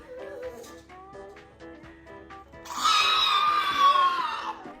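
A loud, shrill scream bursts out midway and holds for about two seconds, following quieter chatter and animal-like sounds.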